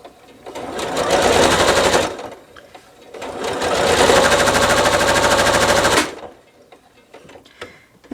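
A sewing machine stitches a quilt block in two loud, rapid mechanical runs of about two and three seconds, separated by a short pause, with soft handling noises afterward.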